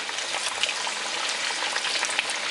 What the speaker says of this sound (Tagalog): So ngayon, magpiprito na tayo. Mainit na ang ating mantika.